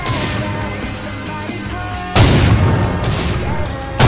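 Loud gunfire in an online multiplayer shooter video game, with dense booming shots that swell abruptly into a heavier burst midway, set against continuous game noise.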